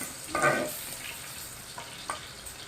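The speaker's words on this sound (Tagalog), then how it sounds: "magigisa na ako ng bawang at sibuyas guys" Garlic and onion sautéing in a pan for fresh miki pancit, a soft steady sizzle with a louder burst of stirring early on and a few light utensil clinks later, no talking.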